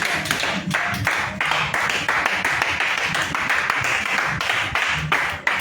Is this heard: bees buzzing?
no